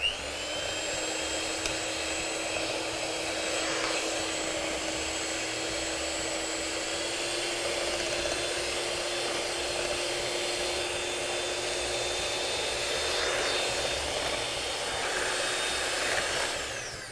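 A steady electric mixer whirs continuously while creaming butter for a sticky toffee pudding batter as eggs are added one at a time, a constant motor drone with no talking.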